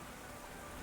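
Rain in the video game Ys X, a dense, soft wash of falling water that fills the short moment evenly at a low, steady level.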